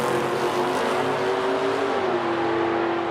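A pair of old Chevrolet drag racing cars roar loudly and close at a drag strip in Edmonton, engines holding a sustained, droning rev with a steady tonal whine across the whole stretch.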